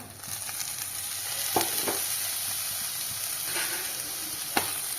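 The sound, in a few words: curry leaves being stirred and sautéed in a pan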